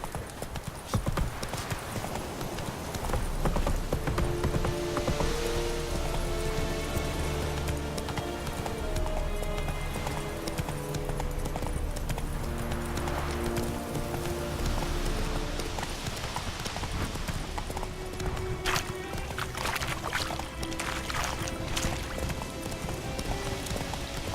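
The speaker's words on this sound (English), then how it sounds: "run, Roach" Hooves of the horse Roach gallop steadily in The Witcher 3, a continuous rhythmic clip-clop that stays loud and close throughout under a layer of game music and ambience.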